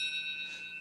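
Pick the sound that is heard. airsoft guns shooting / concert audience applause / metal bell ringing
metal bell ringing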